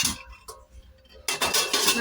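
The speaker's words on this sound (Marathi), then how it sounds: "आता याच्यामध्ये ठेवते मी आणि याच्यावरतून आता झाकण लावून ठेवते" A metal lid set down onto a heated kadhai gives a bright clattering clink near the end, after a quieter stretch of small handling noises, with no one speaking.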